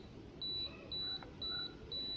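A Canon EOS Rebel T6 camera's self-timer, started with the front button, gives four short, high, evenly spaced beeps close to the microphone, with no one talking.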